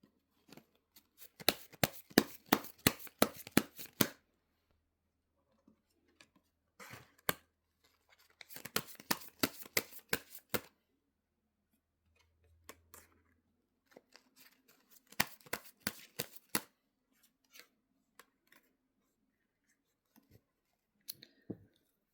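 Tarot cards are shuffled in several quick riffling bursts separated by pauses, crisp and close in a quiet room, with a few isolated taps and clicks in between.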